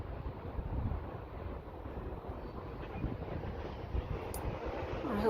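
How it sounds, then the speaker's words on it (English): Wind gusts across a balcony garden of nasturtiums on a warm spring day. It comes through as a steady low rumble buffeting the microphone throughout, with no voices. "I hope the wind doesn't blow these flowers off"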